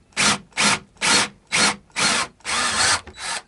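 A drill bit bores into the wooden body of a King brand Goldtop guitar during a pickup change, producing seven short, loud grinding bursts in a steady rhythm.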